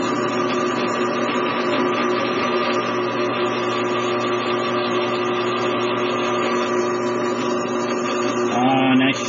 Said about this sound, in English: Get the pilot holes drilled and move forward from there.